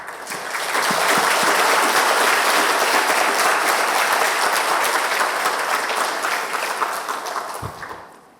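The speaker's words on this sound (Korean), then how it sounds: "나오실 때 큰 박수로 환영해 주시기 바랍니다." A church congregation claps loudly in sustained applause to welcome a guest pastor to the pulpit at a Sunday service, a dense steady wash of hands that swells quickly, holds, and fades out near the end.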